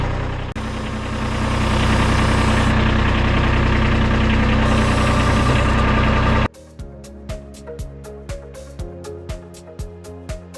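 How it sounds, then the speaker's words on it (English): A Kubota B2301 compact tractor's diesel engine runs at a steady, loud drone before cutting out abruptly, followed by a quieter, rhythmic series of sharp mechanical ticks and knocks. "Just back up the tractor a little bit and get that started."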